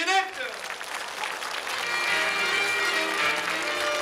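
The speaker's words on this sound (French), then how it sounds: "je vous demande d'applaudir David Michel et ses marionnettes" An audience at a ventriloquist's puppet show breaks into applause that builds quickly into a dense, steady clapping and carries on to the end.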